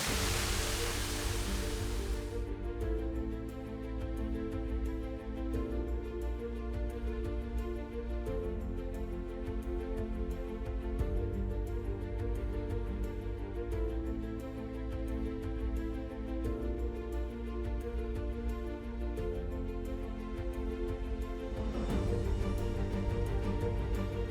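The LaSalle Canyon waterfall at Starved Rock State Park rushes as a continuous, even roar, heard close and steady for the whole stretch with no talking.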